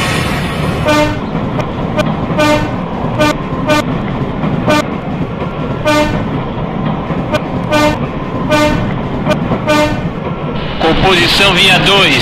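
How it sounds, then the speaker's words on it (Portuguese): A train horn in the train simulator game Hmmsim 2, on the Paranapiacaba to Santo André line, blasts repeatedly in short and longer toots over a steady rumbling engine, with a voice speaking throughout. "Acione a buzina."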